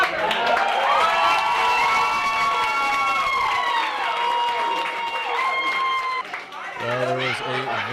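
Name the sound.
excited crowd cheering at Dancing with Savannah Stars event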